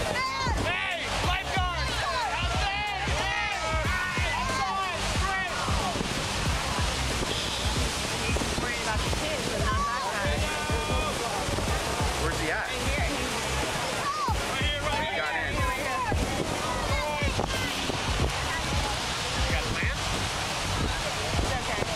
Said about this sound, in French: Elle a été filmée sur une plage à Hawaï encore une fois, et de nombreuses personnes vont se faire pousser par la vague.